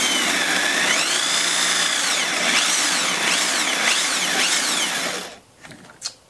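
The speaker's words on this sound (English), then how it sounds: "The recesses are all drilled" A power drill runs steadily while boring recesses through an old drill guide into wood for a crosscut and ripping table saw sled. The whine rises and falls over about five seconds of close, loud drilling, then cuts off into quiet with a small knock.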